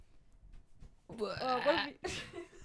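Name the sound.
baby burping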